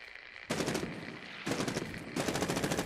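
Bursts of automatic gunfire from Medal of Honor Warfighter multiplayer, three loud sustained volleys of rapid shots separated by brief pauses, no talking.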